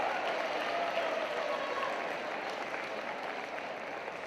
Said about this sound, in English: Let's give them a good round of applause too.